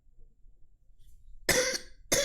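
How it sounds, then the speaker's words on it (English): A man coughs twice at close range, two harsh, abrupt bursts after a near-silent pause, with no other speech around them. "I'm sorry, I'm coughing."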